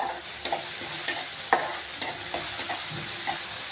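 Dill greens and soaked lentils are sautéed on a low flame, producing a steady soft frying hiss broken by regular scrapes and taps of a spatula against the pan, close and alone.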